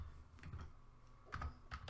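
Quiet typing on a computer keyboard, a few soft clusters of key clicks in two short bursts with no voice.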